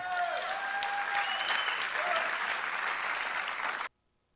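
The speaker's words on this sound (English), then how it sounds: "you have the audience celebrating and everyone cheering and applauding" A studio audience cheers and applauds in a steady, dense wash of clapping with a few whoops on top, holding at full strength for nearly four seconds before cutting off abruptly.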